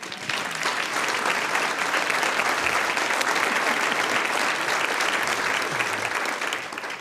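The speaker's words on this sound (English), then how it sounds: "Now in remission, let's applaud that." A luncheon audience at the 44th annual Abe Lincoln Awards of the Kiwanis Club of Indianapolis applauds, a dense, steady roar of clapping that holds loud for several seconds before easing slightly.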